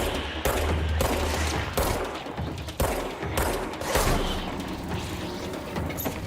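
Heavy gunfire while shooting enemies in the video game Control, a roaring loud barrage with sharp bursts and brief breaks between volleys.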